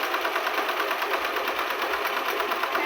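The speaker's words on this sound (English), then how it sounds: "center it under the needle, and sew right down the center" A sewing machine runs steadily while stitching a seam down apron fabric, its fast, even mechanical whir continuing close up and uninterrupted, with no talking.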